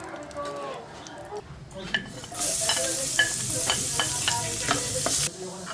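Oil sizzling in a pan while cooking pechay with tokwa and pork: quiet kitchen clatter at first, then a loud, bright sizzle bursts up and holds steady with stirring taps before cutting off near the end.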